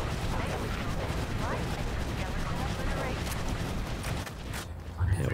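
Gunfire from the shooter video game Borderlands 2 crackles in dense, overlapping bursts throughout, a busy battle din with rapid shots under faint game sounds.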